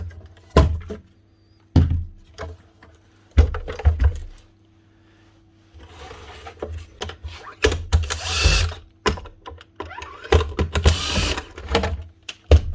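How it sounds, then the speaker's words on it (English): Screws are slackened on the cover of a Makita DMR109 DAB radio during a knob repair, heard as intermittent close mechanical clicks and ratcheting turns with short pauses, then a denser rattling burst near the end, with no speech. "Two screws on here, slacken them off"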